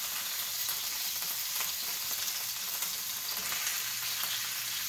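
Large stuffed chicken breasts sear top side down in a pan, a soft, continuous hiss of frying that stays fairly faint and even throughout.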